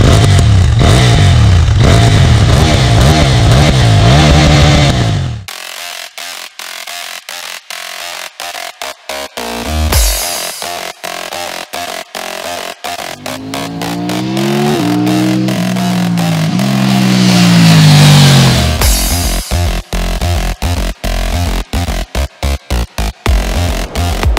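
KTM 790 Duke (2018) motorcycle with an AliExpress Akrapovič-style aftermarket exhaust revving hard, loud and close, with rising and falling engine pitch, sharp throttle blips and crackling pops on the overrun.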